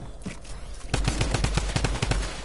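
Rapid gunfire from a shooter video game erupts after a brief lull, a loud, close, rhythmic stream of sharp shots hammering on for over a second.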